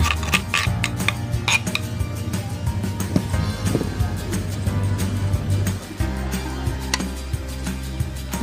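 Spicy seasoning stirred into tempeh in a pan, with repeated light clinks and scrapes of a utensil against the pan in an irregular rhythm over a low steady background hum.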